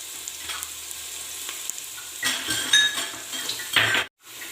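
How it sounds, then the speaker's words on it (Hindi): Ginger garlic paste frying with onions in a pan, a steady sizzle with spoon scraping and clinking against the metal, growing busier toward the end before cutting off abruptly. "अदरक लहसुन का पेस्ट डाल दिया है। अब इसको भी हल्का सा फ्राई कर लें।"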